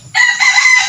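A long-necked cobra-type chicken crows once, loud and close, in a single sustained call lasting under a second.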